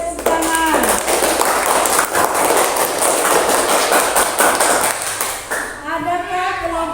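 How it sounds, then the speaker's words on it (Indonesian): A group claps after a discussion presentation, a dense, loud, continuous wash of applause lasting several seconds, with speech briefly at the start and again at the end. "Mari kita beri tepuk tangan."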